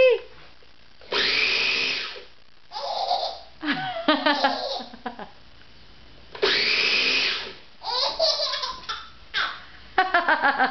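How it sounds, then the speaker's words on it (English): A kitchen blender whirs loudly in two long bursts while blending sweet peas, with a baby laughing and giggling in between and after each run. "Is that your sweet peas getting all blended up?"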